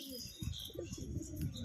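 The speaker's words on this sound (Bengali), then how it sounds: "দেখেন আমাদের নতুন পায়রা ছিল" A pigeon, one of a pair newly kept in a cage, makes soft, low cooing sounds up close. Faint background noise and a murmur of voices can be heard around it.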